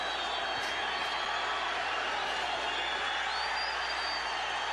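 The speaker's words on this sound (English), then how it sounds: "This crowd is on fire as Johnny Tapia tells them, yeah, I'm getting it done." A boxing arena crowd roars steadily after Johnny Tapia lands a big right on Henry Martinez, a dense, sustained wash of cheering and shouting that stays loud throughout.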